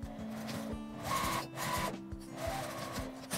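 A sewing machine stitches a fabric zippered notebook case seam up to the fastener, a steady mechanical whir with a rapid needle rhythm running throughout, close and moderately quiet.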